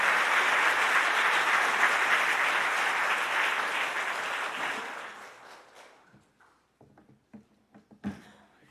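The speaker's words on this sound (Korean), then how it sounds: "우리 목사님 나오실 때 우리 박수로 우리 크게 환영해 주시면 감사하겠습니다" At an evening revival meeting of a Korean church gathering in Singapore, the congregation gives a pastor a loud welcome of applause that holds steady, then thins out to a few scattered last claps.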